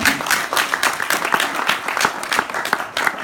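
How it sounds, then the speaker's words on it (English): Steady applause from an audience of about 5,000 people, dense overlapping clapping that holds for the whole stretch without a voice cutting through. "Yeah, you can clap for that."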